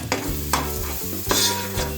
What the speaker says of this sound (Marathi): आता पाच मिनटं आपण हा मसाला चांगला भाजून घेऊया तेल सुटेपर्यंत